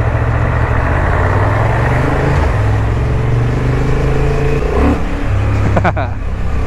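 Honda CB750 Hornet motorcycle from 2023 riding through town, its engine a steady continuous drone with slight rises in revs, loud and close throughout; faint voice sounds may sit beneath the engine noise.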